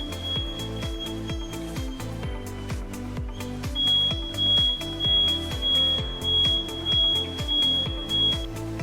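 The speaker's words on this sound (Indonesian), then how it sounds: "lampu detektor logam akan menyala dengan terang dan alarm berbunyi dengan keras" A metal detector alarm used while testing drinking water gives a steady high-pitched electronic tone, sounding continuously over loud rhythmic background music.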